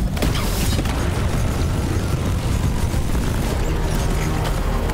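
Meteors strike the ground during a Deep Rock Galactic mission, a continuous heavy rumble of booming impacts and grinding debris that stays loud and dense throughout, with a sharp burst near the start.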